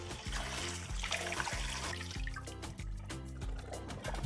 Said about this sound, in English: I'm gonna rinse the shrimp under cold water until it runs clear